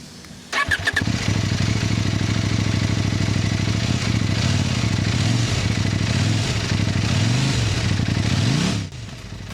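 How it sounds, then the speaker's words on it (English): A KOVE 800X GT motorcycle's 790 twin-cylinder engine starts with a crank and settles into a loud, close idle, then the exhaust is revved up several times before cutting off. "Let's hear the exhaust sound."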